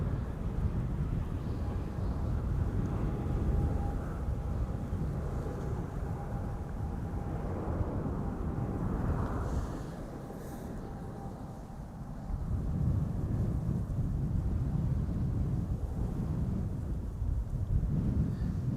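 Icelandair Boeing 737 MAX 8 departing Schiphol, a continuous low rumbling jet roar with wind buffeting, dipping briefly in the middle before swelling again; no voices.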